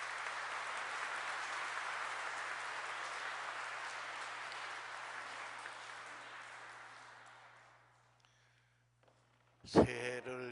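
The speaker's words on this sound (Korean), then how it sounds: "주경님을 박수로 맞이해 주시기 바랍니다." A large hall audience at the Seoul Archdiocese New Year gathering claps for the arriving cardinal, a long even wash of applause that slowly fades to silence before a short burst of voice.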